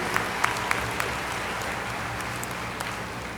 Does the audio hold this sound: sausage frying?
no